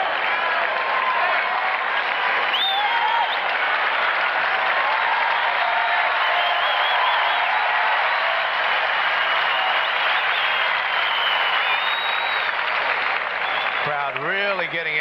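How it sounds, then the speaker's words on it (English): Tennis crowd at a 1992 US Open fourth-round match between Edberg and Krajicek applauding loudly and steadily for the full stretch, a dense wash of clapping that tapers slightly at the end. "Crowd really getting into it."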